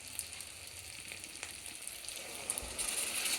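Warm mutton stock is poured into a pan of frying mutton mince and potatoes, and a soft steady sizzle swells louder toward the end, with faint stirring scrapes and no voices.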